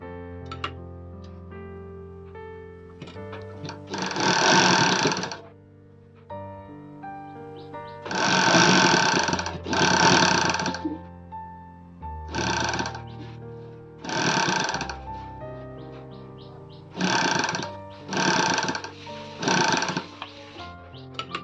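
Sewing machine stitching the seam of a triangle-neck nightie, running in several short bursts of a few seconds each, loud and close, with pauses between runs.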